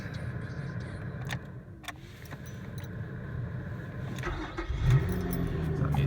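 A Lotus Evora S sports car engine starts up, a steady low mechanical rumble with a brief swell near the end, recorded close from inside the car.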